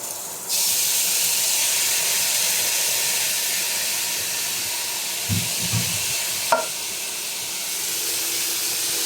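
Meat dropped into a hot pan for Ilocano igado, setting off a steady loud sizzle and steam hiss that runs throughout, with a couple of low thumps and a sharp clink of stirring partway through.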